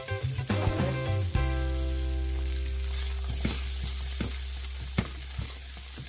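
Salmon steak frying in an oiled pan, a close, continuous sizzle with a low hum and occasional clicks and scrapes as the fish is handled.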